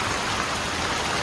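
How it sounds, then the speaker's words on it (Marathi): Heavy rain falls steadily and loudly in a dense, unbroken hiss with no breaks or voices. "एकदम जोरात पाऊस चालू आहे"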